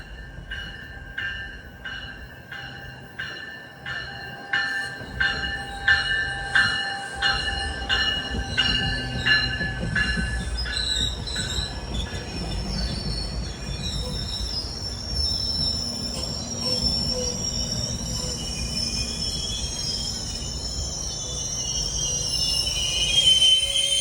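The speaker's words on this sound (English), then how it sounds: "Right behind this GO train" A GO Transit commuter train on the Lakeshore East Line rolls past close by, rhythmic wheel clacks over rail joints giving way to sustained high metallic wheel squeal and a rising rumble.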